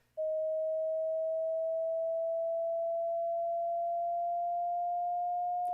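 A perfect pure sine wave holds steady and loud for several seconds, its pitch creeping slightly upward before a sharp click cuts it off.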